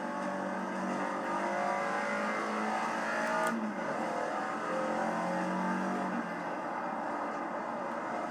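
Caterham race car engine in the racing game Project Cars, droning steadily at high revs with a brief shift dip midway, loud and continuous with no talk.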